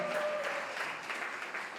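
An audience at an awards ceremony applauds steadily, a dense wash of many hands clapping at a moderate distance, fairly faint and even throughout, with a brief voice or tone near the start.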